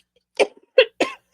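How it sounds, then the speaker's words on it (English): Three short, harsh coughs come close to the microphone in a quiet room, followed by the start of a fourth. "I got rid of the worst of the coughing"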